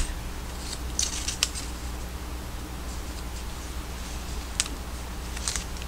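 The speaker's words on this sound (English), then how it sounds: "take a piece like this and cut it in half" Scissors snipping through a piece of paper to cut it in half, a few crisp close cuts scattered over a quiet background hiss, no talk.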